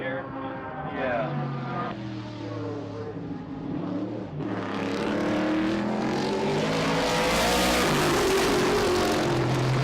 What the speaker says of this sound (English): another Oldsmobile Cutlass, the one driven by Phil Mayer, is now running 10th